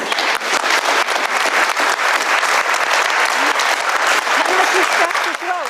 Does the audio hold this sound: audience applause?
yes